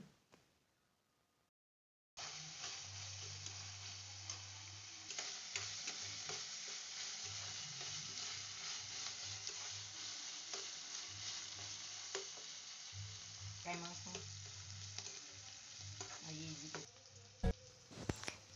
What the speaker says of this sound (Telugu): అందులో ఒక బిర్యానీ ఆకు, దాల్చిన చెక్క, ఉల్లిపాయ ముక్కలు వేసుకుని బాగా మగ్గేలా వేయించుకోండి.